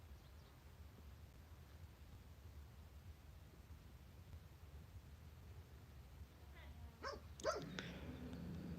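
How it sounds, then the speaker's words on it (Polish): A dog barks somewhere in the distance, a few faint short barks near the end over low background hiss in a quiet room. "piesek szczeka, czyżby ktoś szedł"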